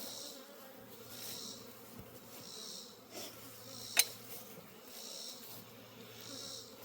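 Steady insect buzzing from many honeybees around a hive hums continuously, with a brief sharp click partway through.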